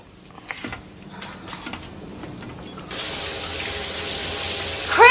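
A shower aboard a spaceship turns on: after quiet, faint clicks and handling sounds, a steady broadband hiss of running water starts partway through and continues loud and constant to the end.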